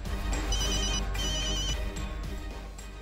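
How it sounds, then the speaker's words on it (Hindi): A mobile phone ringtone plays loudly and continuously, a repeating electronic melody with bright pulsing tones over a dense musical backing. "फोन तेरा फोन बज रहा है"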